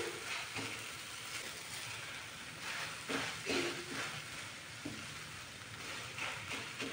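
Grated carrots cooking in ghee in a pan for carrot halwa sizzle softly throughout, with periodic scraping bursts as a spoon stirs them, close and fairly quiet.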